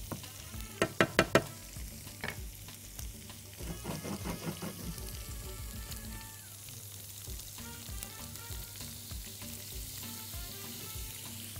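Minced garlic and dried coriander sizzle in hot oil as a taqliya for Egyptian okra with lentils. The clip opens with a few sharp clinks, then a soft, steady frying hiss runs throughout.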